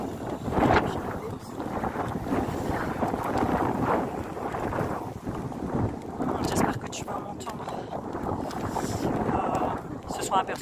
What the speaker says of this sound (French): Je suis désolée pour le vent.